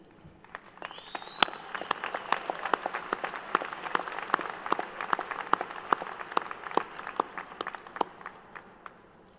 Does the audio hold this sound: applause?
yes